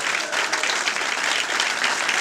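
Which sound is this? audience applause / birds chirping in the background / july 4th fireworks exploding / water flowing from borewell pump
audience applause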